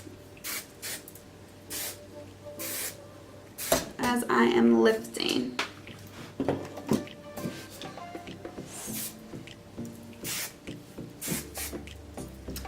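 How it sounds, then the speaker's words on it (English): Moroccanoil medium hold hairspray sprayed onto lifted hair: a close, hissing burst of aerosol in the middle, with a few shorter puffs around it, amid soft talking and light handling noises. "I'm just going in with a medium hold hairspray. This is just the Moroccan oil hairspray."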